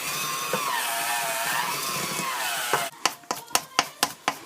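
An electric mixer beats cream cheese for an apple streusel cheesecake, a steady, wavering motor whine that cuts off near the end, followed by a series of sharp knocks.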